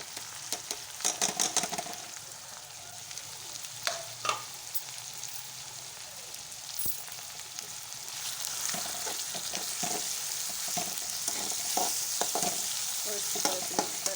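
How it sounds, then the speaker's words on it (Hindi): Ground onion sizzling in a pan for fish curry, stirred with repeated scraping clatters over a steady broadband fry that grows louder in the second half; close and continuous, with no talking. "और अब इसमें जो ग्राइंड की हुई प्याज है वो डाल देंगे।"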